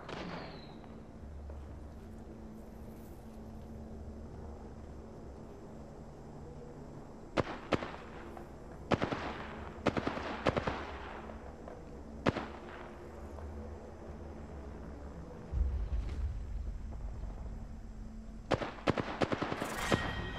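Apex Legends battle-royale gunfire: after a quiet ambient stretch, scattered sharp shots crack out in short bursts, some close and loud and others more distant, with no talking.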